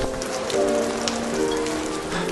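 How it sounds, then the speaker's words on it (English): Heavy, steady rain pours down in Damascus, Syria, a dense continuous hiss of drops drumming on surfaces close by, with no voices. "it's protecting me from this very strong rain here in Damascus"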